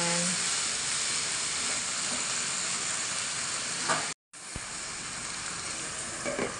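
Grilled liempo (pork belly) sizzling in a pan over low heat, a steady close frying hiss that continues almost unbroken, with a brief dropout and faint clinks.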